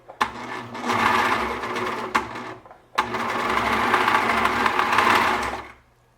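HuskyLock 901 serger driven by its foot pedal, a loud, steady mechanical whirring stitch sound in two bursts with a brief pause between, ending with a quick fade.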